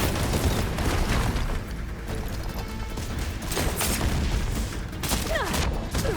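Cannon fire in the video game Horizon Forbidden West comes as heavy booming blasts amid crashing, chaotic combat noise, several loud impacts spread across the clip with no talk.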